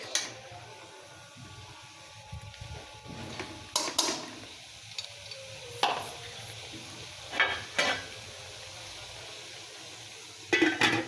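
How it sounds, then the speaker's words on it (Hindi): Peas and rice for matar pulao fry gently in a pan with a low, steady sizzle, while a spoon scrapes and stirs in sharp, irregular clinks. "तो यहाँ पर मटर ऐड करने के बाद थोड़ा सा हम इसे फ्राई कर लेते हैं इस तरह से स्पून की मदद से"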